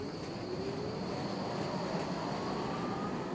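Porto metro train at Sete Bicas station: a steady, even rumble of rail traffic with a faint high whine, constant in level and with no talk over it.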